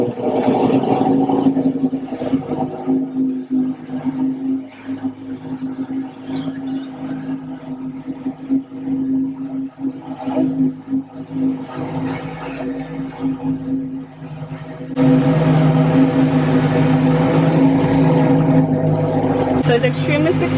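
Porsche Design Tower car elevator moving with a car aboard, producing a steady droning hum and mechanical rumble under frequent talk, which grows louder and fuller during the last few seconds.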